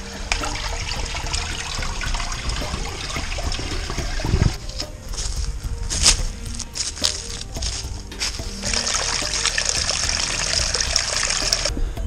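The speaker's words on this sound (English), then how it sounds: "And that's where the water comes through." Creek water flowing over worn rocks at Labarque Creek Conservation Area, a loud, steady rushing trickle with splashy bursts, continuous throughout and with no talk.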